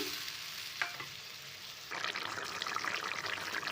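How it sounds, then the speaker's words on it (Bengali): Water bubbles and simmers in a pot of prawn curry with pumpkin, a steady close hiss that grows livelier and louder partway through, with no one speaking. "জলটা এরকমভাবে ফুটছে"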